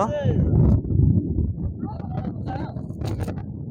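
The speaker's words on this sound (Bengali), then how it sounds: "অনেক বাতাস তো" Loud, rumbling wind buffeting a microphone outdoors during cast-net fishing, strongest in the first second, with faint voices and other noises underneath.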